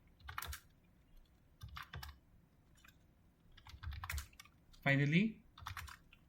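Computer keyboard keys tapped in a few short bursts while entering shell commands at a terminal, close and fairly quiet, with a brief spoken word partway through.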